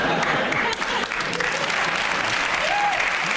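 Studio audience applause on a British comedy panel show, a dense, loud wash of clapping filling the room with some cheering, steady throughout.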